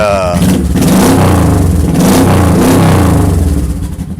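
A motorcycle engine revs loudly and steadily for about four seconds, its deep throbbing roar rising and holding as a voice talks over it.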